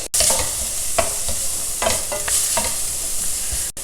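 Onions with a pinch of turmeric sautéing in a hot pan, with a steady loud sizzle and spatula scrapes and stirring strokes close by, with no talking.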